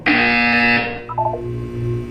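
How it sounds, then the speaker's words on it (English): A buzzer in the game Portal 2, a loud electronic tone held for under a second, followed by a few short, quieter stepped tones as it decays. "When you hear the buzzer, look down at the floor."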